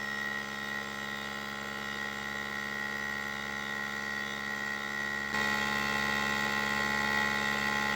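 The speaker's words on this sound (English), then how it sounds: "Now it's sucking. Now it's doing it. Sucking the air out." A vacuum sealer draws air out of a pork package with a steady, droning electric hum that holds constant throughout, stepping up slightly louder near the end.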